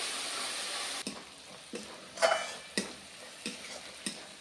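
Onion paste fries in a pan, a soft close hiss of sizzling oil that fades after the first second, broken by several scraping stirs of a spoon at irregular intervals, quiet and with no talking.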